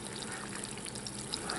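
Fat bubbles and sizzles in a pot while pemmican is being made, a dense, steady crackle of small pops close up, with no talking.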